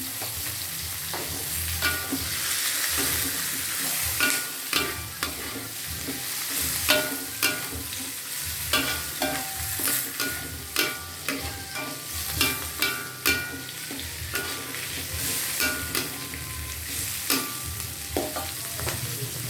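Bay leaves and crushed lemongrass stir-fry in a pan with chilies, giving a constant close sizzle broken by repeated clacks and scrapes of a spatula stirring, with no voices.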